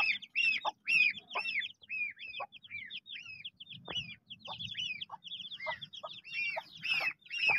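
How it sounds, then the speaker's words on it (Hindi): A hen clucks near her ducklings, mixed with high peeping chirps that repeat in quick bursts close by over a faint low rumble, with no talking. "ये हमारी मुर्गी मारने आती है लेकिन ना इनको नहीं मारती इतना"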